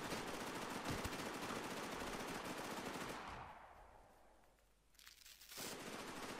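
Heavy, rapid automatic gunfire in an online shooting game, loud and dense for about three seconds, fading into a quieter lull, then another short burst of shots near the end.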